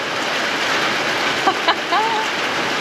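Heavy rain pours on a rural farm in Portugal, a loud, steady, close hiss. A few faint chirps briefly cut through it.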